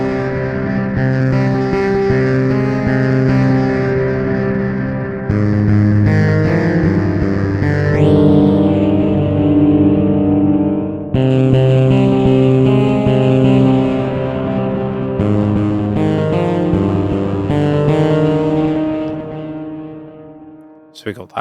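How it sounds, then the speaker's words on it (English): A distorted, aggressive electric guitar plays sustained chords through a plugin phaser effect with a sweeping tone, loud and continuous, with one brief pitch sweep and a short stop near the end. "Turn on the phaser."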